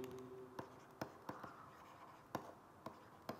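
Chalk or a marker writes on a board during a lecture, with sharp irregular taps and strokes over a faint room hum and no voices.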